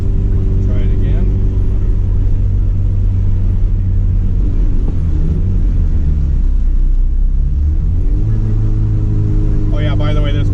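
Turbocharged Devcon B20 engine on boost during a tuning pull: a loud, steady engine drone that dips in pitch midway, then climbs sharply as revs rise near the end, with a voice heard over it.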